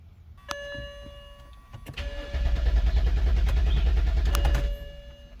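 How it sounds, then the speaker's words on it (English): A BMW E90 being started with its fuel pump pressure released: short electrical clicks and whirs precede the starter cranking, then the engine catches and runs at a steady idle close by before cutting off. "we're gonna start the car, so at least we're gonna release the pressure for the fuel pump"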